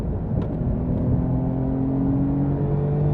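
A Magnus Walker Porsche engine winds up toward redline in second gear, a loud, steady whirring roar from inside the car that climbs gradually in pitch, continuous without pause or talking.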